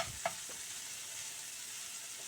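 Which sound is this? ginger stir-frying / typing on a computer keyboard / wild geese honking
ginger stir-frying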